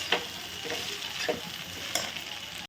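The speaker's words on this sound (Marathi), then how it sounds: "इथं मीठ छान मिक्स करून घेतलं करून देणार छान परतून घ्यायचं" Onion is sautéed with salt in a pan, with a steady sizzle under a few distinct scraping strokes of a spoon stirring at roughly even intervals, close by and with no talk.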